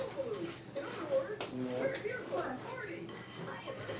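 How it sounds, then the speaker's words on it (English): Flour mixture is stirred and scraped in a rotating bowl, giving soft scraping and light clinks of utensil against the bowl, under a person talking. "I always just rotate my bowl because then I can scrape all the flour off the side and make sure everything's getting mixed in evenly"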